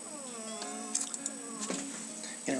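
A pet dog whines indoors in a high, drawn-out, wavering tone, with several whimpers over a couple of seconds, close and alone, followed by a brief rustle at the end.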